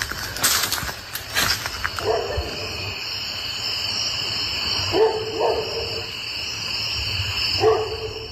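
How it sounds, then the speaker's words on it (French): Dogs bark outdoors at night on a property near a field, sounding somewhat distant, with a few scattered barks spread over a steady background hiss. "Les chiens se mettent à aboyer frénétiquement, comme pour la mettre en garde, leur voix déchirant le silence."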